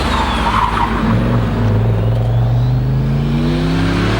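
A Holden Commodore accelerates hard up a mountain hillclimb course after a hairpin, its engine roaring loud and close with a steadily rising pitch through the gears, continuous and without talk.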